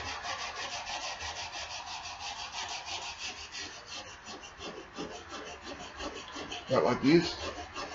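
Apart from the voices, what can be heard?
rubbing rust off axe cutting edge while sharpening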